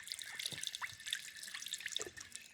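Water from a public drinking fountain in Armenia trickles and splashes with scattered dripping, a steady close stream broken by small irregular droplet sounds, with no talking.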